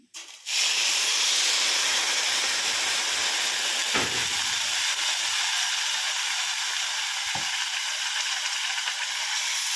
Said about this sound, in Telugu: ఏ గ్లాస్తో తీసుకున్నాను రవ్వ ఆ గ్లాస్తో మూడు గ్లాసులు వాటర్ వేస్తున్నాను